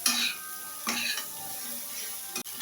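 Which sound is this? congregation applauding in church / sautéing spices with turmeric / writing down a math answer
sautéing spices with turmeric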